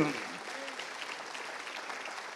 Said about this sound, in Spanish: Vamos, denle fuerte ese aplauso al Señor.